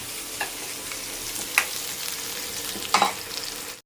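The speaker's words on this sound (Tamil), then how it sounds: "வெங்காயம் நல்லா வதங்கிடுச்சு" Onions sauté in a pan for a home-cooked cauliflower gravy, a steady soft sizzle with a few scraping stirs of a spoon, close and moderately quiet, no speech.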